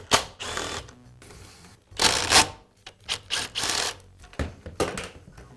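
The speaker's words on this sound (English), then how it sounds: "Next, I'll remove the lock ring." The lock ring comes off an Echo leaf blower during a repair, with several close scraping and rubbing bursts of metal against plastic in an irregular rhythm, some sharp and loud, others softer.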